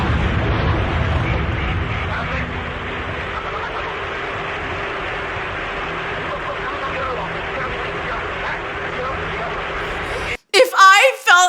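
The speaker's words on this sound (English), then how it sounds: "This causes more ruptures in the back of the plane, and the vertical tail fin blows off the aircraft." Explosion as a plane's vertical tail fin blows off: a sustained loud, rumbling roar dominates for about ten seconds, then cuts abruptly to a voice speaking at the very end.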